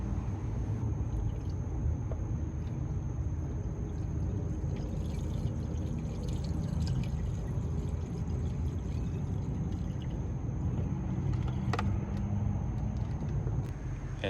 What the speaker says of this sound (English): Fill the system with mainly distilled water.